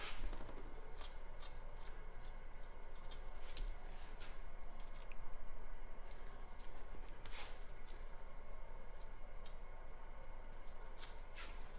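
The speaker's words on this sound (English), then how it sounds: "once we take the tape off" Masking tape peeled off spray painted art in a galaxy spray paint piece: steady close ripping and crackling with occasional sharper snaps, continuous and moderately quiet, no voices.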